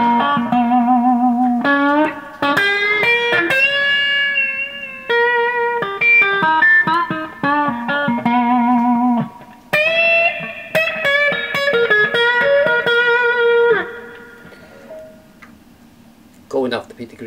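Clean electric guitar with PAF-style neck pickup and Peter Green mod playing melodic phrases and bends, dry and close with no reverb tail, pausing briefly between runs.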